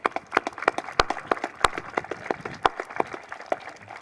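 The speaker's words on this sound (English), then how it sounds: "if we could give him a round of applause" Audience applause at a Vietnam veterans plaque dedication in Medfield, with a steady patter of claps and a few sharp, louder hand claps standing out across four seconds.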